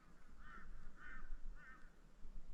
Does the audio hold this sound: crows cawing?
yes